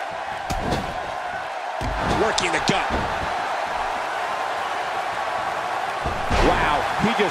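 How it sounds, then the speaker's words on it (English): A wrestler's body slam in the WWE 2K17 video game during a Chris Benoit versus Daniel Bryan steel cage match, heard as a few heavy thuds over arena crowd noise, with a commentator talking throughout. "Slammed him with ease. And almost slammed him right through the ring floor."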